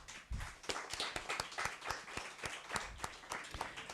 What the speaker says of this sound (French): On peut aussi l'applaudir.